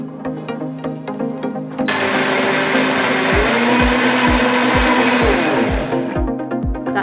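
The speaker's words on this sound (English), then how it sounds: "And I'm going to blend that up." A JTC OmniBlend blender whirs up milk, macadamia butter, raw cacao and coconut sugar, starting with a sudden loud roar, holding a steady high-powered whine for several seconds, then cutting off into a rattling wind-down.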